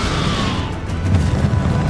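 A Bombarda blast spell goes off in a Hogwarts Legacy battle, a loud booming crash with a low rumbling tail and some debris clatter, close and dense, with no talk over it.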